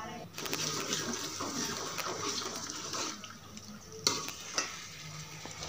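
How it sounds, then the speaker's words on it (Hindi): Potato and aubergine curry (salan) being stirred and fried in a pan, a steady sizzle with scraping stirs and a couple of sharper utensil knocks near the end. "तो आज हम पका रहे हैं आलू और बैंगन का सालन।"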